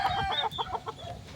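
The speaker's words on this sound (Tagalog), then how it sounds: "Parang kumakakak na naman. Away na sila tatlo." Three hens squabble close by, with a quick run of loud, agitated clucks and squawks in uneven bursts.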